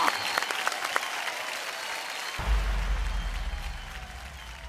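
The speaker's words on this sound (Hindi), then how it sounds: "जोरदार तालियां हो जाएं" Audience applause at a Bhojpuri award show: scattered claps give way to a fuller, sustained round of clapping with low crowd rumble, fairly close and steady.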